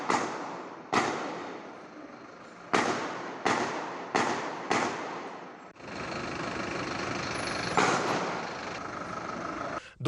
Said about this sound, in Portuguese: Eles gravaram o momento que os tiros foram disparados.